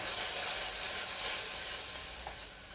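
Steady, hissing bubbling of soy sauce with Chinese cooking wine boiling in a pan, fairly soft and continuous with no voices.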